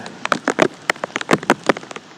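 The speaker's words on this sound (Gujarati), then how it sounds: "અત્યારે વરસાદ ચાલુ છે હાલમાં" Rain falling in a village in Dabhoi taluka, with water running along the road, makes a string of close, uneven patters and splashy taps that come in quick bursts without any talking.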